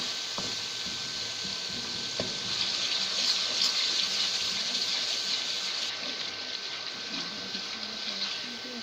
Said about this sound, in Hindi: अब इसकी भुनाई कर लेंगे अच्छे से।